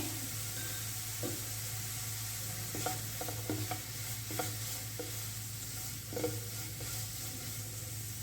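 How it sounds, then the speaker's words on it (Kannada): Half a grated carrot frying with a little salt in a pan, a steady low sizzle with several soft stirring scrapes of a utensil, close and continuous, no talking. "ಅರ್ಧ ಕ್ಯಾರೆಟ್ ತುರಿದಿಟ್ಕೊಂಡಿದ್ದೀನಿ. ಸ್ವಲ್ಪ ಫ್ರೈ ಮಾಡಿಕೊಂಡ್ರೆ ಸಾಕು."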